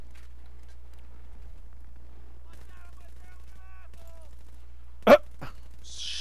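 Gunfire in the video game Battlefield 3: one sharp, loud shot followed by a fainter second crack, after a quiet stretch with a low hum and faint murmuring voices.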